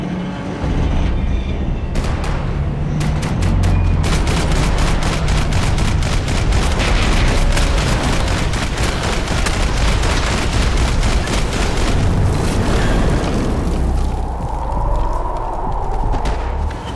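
Heavy gunfire rips through a shootout in the video game Max Payne 3: loud, rapid bursts and overlapping shots stack densely, then thin out near the end with a few scattered reports.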